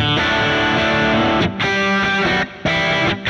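An electric guitar played through a Kemper profile of an AC50 amp, captured with a 57 and a Fathead on a 1969 4x12 cabinet in a booth, rings out in loud distorted chords with brief gaps between strums.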